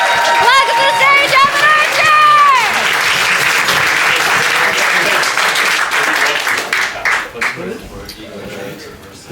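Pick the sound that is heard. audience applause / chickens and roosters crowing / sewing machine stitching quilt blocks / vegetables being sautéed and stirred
audience applause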